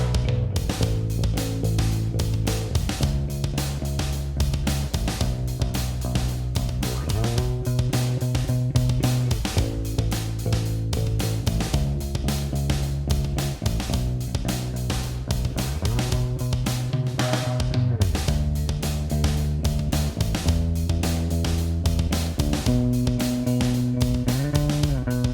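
A simplified bass line playing steady root notes in Logic Pro X, sitting under a full song arrangement with regular chord changes every couple of seconds, loud and continuous with no talking.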